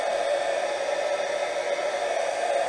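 A heat gun blows steadily over glue on a popsicle stick craft bracelet, a loud, constant airy roar holding unbroken from start to finish with no talk.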